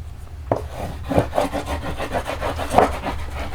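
Cardstock is burnished down onto adhesive with quick, rhythmic rubbing strokes, a close, steady scratchy swishing repeated about a dozen times.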